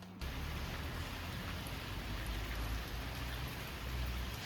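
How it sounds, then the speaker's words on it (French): Steady rain falls after a brief quiet start, a dense even hiss of drops on surfaces, moderately soft and continuous with no voices. "Je crois que j'ai jamais été aussi heureuse de voir de la pluie."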